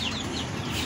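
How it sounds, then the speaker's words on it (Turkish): A GSG breed rooster clucks on a hobby farm, one short, rough burst heard close up against a steady wash of background noise. "GSG horozumuz."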